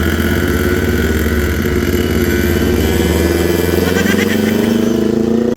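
Two Ninja motorcycles run close by with a loud, steady engine drone, the pitch edging slightly upward toward the end, with no voices.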